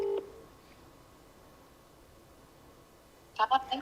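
A mobile phone dials a call, with a short tone at the start and then a quick cluster of beeps near the end over a faint room hiss.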